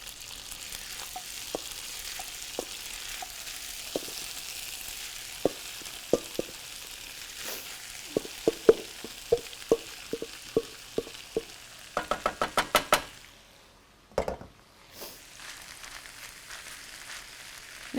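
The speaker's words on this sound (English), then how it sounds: "Our butter has melted in the iron skillet, and now we're going to transfer the mixture to the iron skillet." Corned beef hash mixture hits melted butter in an iron skillet and sizzles steadily, with a series of sharp spoon knocks and scrapes against the pan, a quick burst of taps, then a brief lull.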